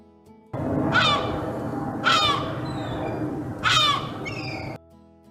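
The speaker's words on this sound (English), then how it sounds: "seagull," A seagull gives three loud, harsh calls spaced about a second and a half apart, standing out over a steady background murmur.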